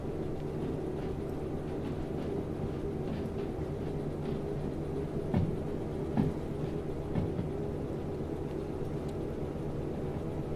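A freight train in the Derail Valley game rolls along with a steady low rumble and a few faint clicks over the track, continuous and alone.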